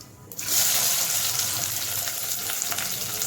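Small onions dropped into hot oil with crackling cumin for mutton chukka, a loud steady sizzle starting abruptly after a brief quiet moment and continuing close up with faint clinks.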